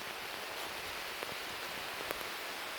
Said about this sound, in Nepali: अति नै पानी परिरहेको छ यहाँ